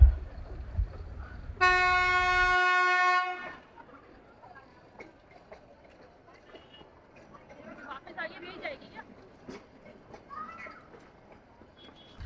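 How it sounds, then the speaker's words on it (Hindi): Nilgiri toy train pulling into the station at Ooty: a loud, steady horn blast sounds over a low rumble, then fades into quieter, busy platform ambience. "और लीजिए हमारी ट्रेन भी आ गई।"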